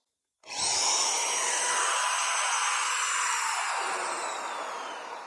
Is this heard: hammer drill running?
yes